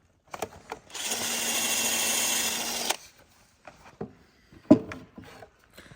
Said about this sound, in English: spin it backwards and just push it into the brace and like tenon, spin it a couple of times